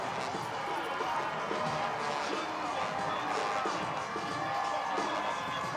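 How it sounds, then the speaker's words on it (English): A crowd cheers at a high school football game, a continuous broad roar in the stands with band and pep squad noise mixed in, while a commentator talks over it. "You got to love high school football, man. The bands, the crowd, the pep squad"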